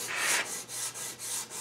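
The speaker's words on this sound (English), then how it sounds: "you know how sanding goes" Rhythmic, raspy scraping strokes, about six back-and-forth passes, as sandpaper is rubbed by hand over a cherry wood frame, close and fairly quiet.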